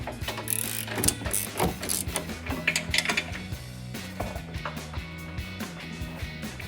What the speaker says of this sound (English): 3/4 inch wrenches that you used before and tighten it